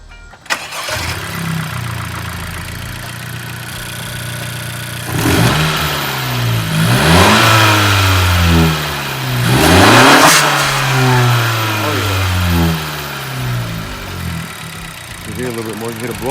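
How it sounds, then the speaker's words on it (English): A 2018 Honda Civic Hatchback fitted with a blow-off valve and aftermarket intake starts up and revs loudly nearby, with rising and falling engine sweeps and a couple of sharp surges; a voice talks over the engine. "You hear a little bit more, you hear the blow-off valve a little bit more."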